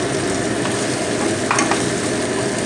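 Tomato paste hitting hot oil, giving a continuous dense sizzle close up, with a brief louder spatter burst partway through.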